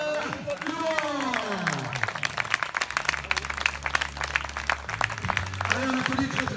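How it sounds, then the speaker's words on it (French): Crowd applause at a triathlon award ceremony, scattered clapping rising and falling beneath a loud announcer and a low hum, with music-like tones mixed in. "Allez, on applaudit très très fort ce programme."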